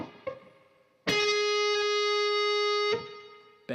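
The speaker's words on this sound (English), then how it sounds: "Okay, so we bend up a half step to this pitch." Distorted electric guitar sustains one bright lead note, bent up a half step and released, from a solo; a couple of picked notes come before the loud held tone, which then drops away.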